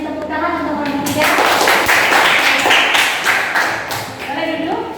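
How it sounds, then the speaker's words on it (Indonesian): A group claps for a few seconds, a burst of applause from a room of people, with voices before and after. "saya rasa boleh beri tepuk tangan untuk kelompok 3"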